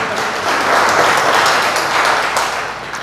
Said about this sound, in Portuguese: Diga aleluia e aplauda ao Senhor